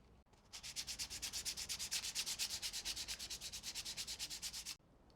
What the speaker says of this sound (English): Now I'm going to go ahead and I'm going to sand it again with the 400.